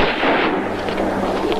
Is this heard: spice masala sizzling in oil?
no